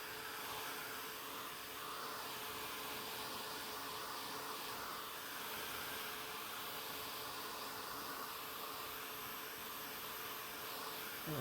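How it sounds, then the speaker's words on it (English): A handheld heat drying tool blows a steady, even whirring hiss across chalk paste on a reusable surface, low in level and unbroken throughout, with no voices. "use my drying tool so you can kind of try to see this shimmery copper look"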